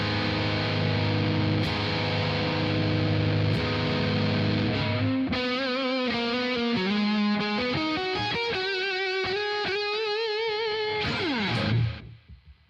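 Electric guitar played through distortion and effects, starting with a thick distorted drone, then picked single notes and melodic lines with shimmering processing, ending in a swelling chord that cuts off abruptly.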